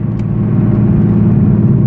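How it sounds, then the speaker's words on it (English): A Nissan 370Z's exhaust rumbles loud and close with a steady, deep drone under acceleration, heard alone without talk. "And the sound from its exhaust"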